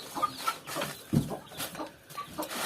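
Young fighting rooster chicks raised at home cluck and peep softly in short scattered calls, faint and close, with one fuller cluck standing out midway.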